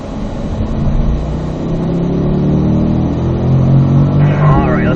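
A Corvette accelerates downhill on a race track, its engine revving steadily louder with rising pitch across the whole stretch, captured from inside the car.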